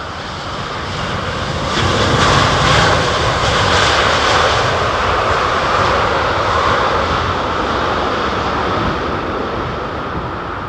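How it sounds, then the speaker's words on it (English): Airbus A350 jetliner engines at London Heathrow Airport give a loud, broad roar that swells and then holds steady as a continuous wash of jet noise, with no talking over it. "What a great jetliner, 350, man."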